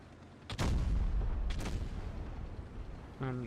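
Tank cannon fire in a 1v1 tournament match of an online tank game, two heavy booming shots about a second apart, followed by a lingering low rumble, with a brief voice-like tone at the end.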